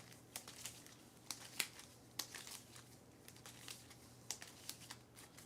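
Quiet, close card shuffling for a tabletop card game: scattered crisp riffling and flicking clicks in an irregular rhythm, with no talk.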